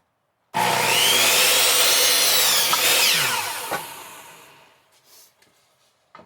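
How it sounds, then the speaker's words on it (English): A hand saw cuts through wood for a horizontal beehive build, a steady continuous rasp lasting about four seconds that fades as the cut finishes, followed by faint knocks and near silence. "Alright, so I gotta make a cut here."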